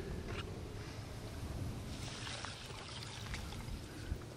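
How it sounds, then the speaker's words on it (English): Water is poured into a tub of fishing pellets, making a soft, steady splashing and gurgling pour with some outdoor wind noise, fairly faint and continuous. "And now we're going to add the water."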